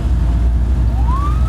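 A police car's siren begins to wail and rise in pitch over a loud, rumbling vehicle interior drone in Peshawar, Pakistan.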